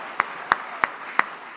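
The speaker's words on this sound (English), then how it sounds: "Everybody applaud for our saving the tie." Five sharp, evenly spaced claps ring out one after another, each a crisp isolated smack with short pauses between, fairly close and moderately loud with no talking.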